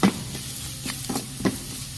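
Carrots and capsicum stir-fry in a pan for a Veg Manchurian, crackling with a steady sizzle while a spatula scrapes and stirs in several short strokes.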